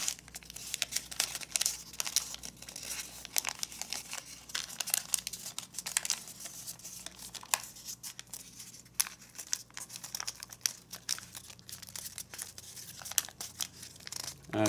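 Paper folded for an origami gauntlet gives close, continuous crinkling and rustling, with irregular sharp crackles as edges are creased, and no talk.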